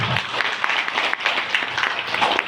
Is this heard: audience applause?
yes